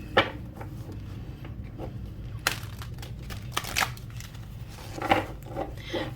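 Oracle cards are rifle shuffled close by, giving soft riffling flutters and sharper snaps in a few bursts over a low background hum, with no talking.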